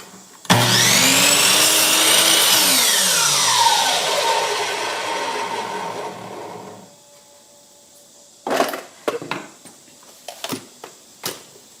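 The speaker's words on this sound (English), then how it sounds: "So here's our chop saw" A chop saw cuts a wooden dowel down to size, a loud, sustained whine with a descending pitch sweep as the blade bites and spins down, followed by several short knocks and clunks.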